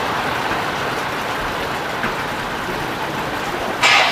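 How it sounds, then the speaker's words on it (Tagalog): Heavy rain pouring down hard on a house's veranda, a dense, loud, steady hiss that swells briefly near the end, with no voices. "grabe ang lakas ng ulan"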